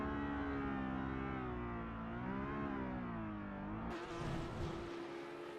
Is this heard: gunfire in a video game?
no